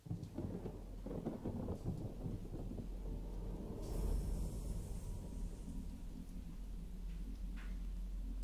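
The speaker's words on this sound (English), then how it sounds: "So now it's raining?" Steady rain pours in the video game Tiny Echo, with a deep thunder rumble swelling around the middle of the storm before easing back into the continuous downpour.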